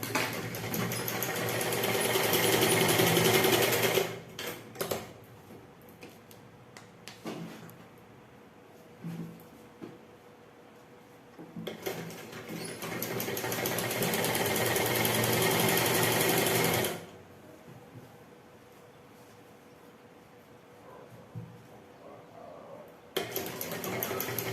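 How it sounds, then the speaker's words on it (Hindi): Sewing machine stitching a seam on palazzo pants: two long, loud, steady whirring runs of rapid needle strokes separated by quieter pauses with small handling clicks, and a final burst starting at the end. "और अब इस पेस्टिंग पर हम मशीन लगा लेंगे।"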